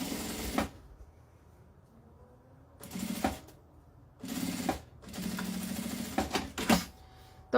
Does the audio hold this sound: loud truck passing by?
no